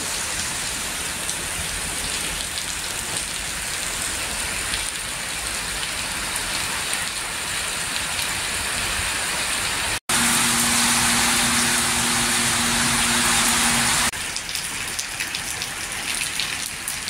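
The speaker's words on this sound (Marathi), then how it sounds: "मध्यरात्रीपासून बुलढाणा शहर परिसरातील भागात अवकाळी पावसाने जोरदार हजेरी लावली असून" Heavy unseasonal rain pours down steadily around Buldhana at midnight, a dense, loud hiss that fills the whole stretch. It is briefly interrupted, then resumes with a low engine-like hum underneath.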